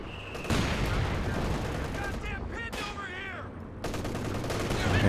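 Sustained machine gun fire in a Company of Heroes 2 battle, dense rattling bursts running almost continuously at moderate loudness, with a voice speaking briefly over the shooting partway through.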